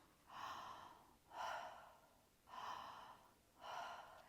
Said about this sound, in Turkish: Ağzımızdan nefes alıp veriyoruz.